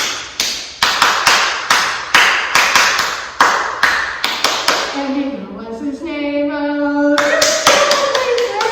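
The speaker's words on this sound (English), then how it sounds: "now we're going to clap on all 5 letters." Rhythmic hand claps along to the Bingo children's song, sharp and close, a steady run of beats before a sung or spoken stretch, then clapping resumes at the end.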